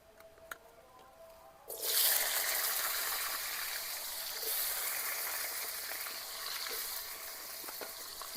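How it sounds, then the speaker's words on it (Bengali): Carrots and potatoes dropped into hot oil in a kadai burst into a loud, steady sizzle after a quiet moment, the bright frying hiss holding strong and close with small crackles throughout. "তেলটা ভালোভাবে গরম হয়ে গেছে। গাজর আর আলুটা ধুয়ে নিয়েছি, প্রথমে গাজর আলুটা ভেজে নেব।"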